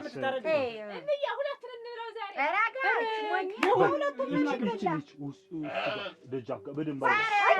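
A sheep bleats repeatedly with a wavering, nasal cry, closely mixed with voices talking throughout.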